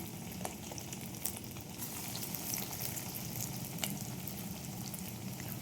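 Chicken kebab balls frying in very hot oil, a steady soft sizzle and crackle with scattered small pops, fairly quiet and without talk.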